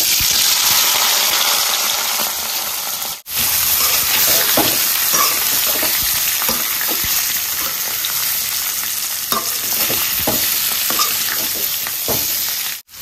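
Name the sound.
potatoes frying and sizzling in a pan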